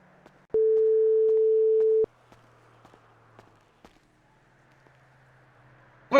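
A malfunctioning phone gives one loud steady electronic tone lasting about a second and a half, then cuts out to faint background clicks and a low hum, with a sharp burst at the very end.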